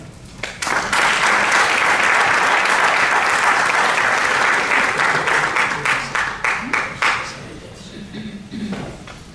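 Sustained audience applause at a medical research conference on HHT, loud and dense from the start, then thinning into scattered claps before fading out near the end.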